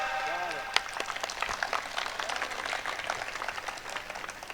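Audience clapping at a live Hindi stand-up comedy show, a dense patter of hand claps running steadily under a voice, moderately loud and close.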